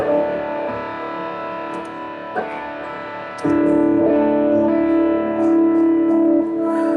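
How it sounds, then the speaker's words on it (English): Heavily distorted electric guitar plays sustained lead notes, jumping louder partway through and holding a thick, singing tone to the end. "This is the lead sound."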